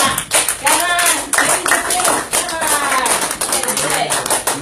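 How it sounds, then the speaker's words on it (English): An audience applauding at the end of a speech, dense clapping in uneven surges with cheering voices mixed in. "So let's give a round of applause to all of us"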